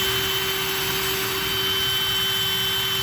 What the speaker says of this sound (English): I'm gonna drive the bit forward into the wood, back it out to clear the bit and to cool the bit.